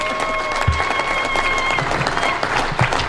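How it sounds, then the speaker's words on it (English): An audience at an International Women's Day event applauds a chief guest, many hands clapping in a sustained, fairly loud wash with a few sharper thuds and a faint tonal hum beneath. "can we give her a better clap"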